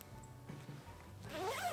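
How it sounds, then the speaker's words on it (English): Zipper on a reversible Helikon-Tex Wolfhound hoodie jacket drawn up in one short, close rasp, quiet and alone. "It zips up exactly the same way"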